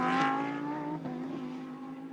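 GT3 race cars racing at Sonoma Raceway during a GT America race, a loud engine whine passing close with shifting harmonic pitch that holds strong and then fades slightly as the car moves away.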